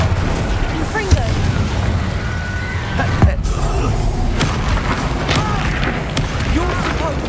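Spell explosions in the Hogwarts Legacy video game: booming bursts within a loud, continuous wash of battle noise, with voices sounding throughout.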